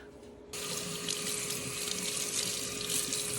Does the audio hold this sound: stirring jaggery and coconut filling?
no